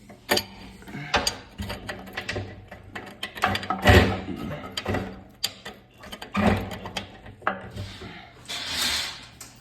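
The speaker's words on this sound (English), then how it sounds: "Gonna get these nasty bolts off." Bolts being removed from a gearbox during a rebuild, with repeated metallic clanks, ratcheting clicks and scraping tool sounds in irregular bursts, close and fairly loud.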